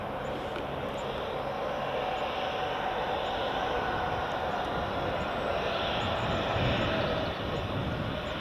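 Ryanair Boeing 737 MAX jet airliner arriving at Edinburgh Airport in the early morning, a steady, fairly loud jet engine roar that holds even throughout, with no voices.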